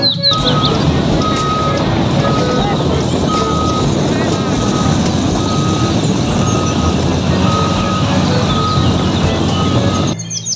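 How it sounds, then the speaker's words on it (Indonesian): Steady electronic reversing beeps repeat at an even pace over a constant mechanical hum, with faint chirps in the background throughout. "Yang ini ada mobil truk tambang."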